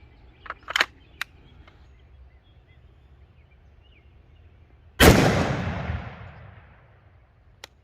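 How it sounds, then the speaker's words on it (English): A single loud rifle shot from a Ruger SFAR firing .308 rounds, with a long decaying echo outdoors, preceded by a few faint clicks and handling noises. "We'll let it cool down, and then we'll take this next 20 shots."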